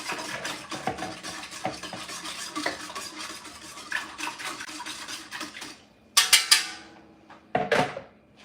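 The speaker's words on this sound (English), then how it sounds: "We're just gonna get this in here and stir" Homemade chicken noodle soup is stirred in a pot, giving continuous scraping and swishing strokes, followed by a few louder clanks at the end.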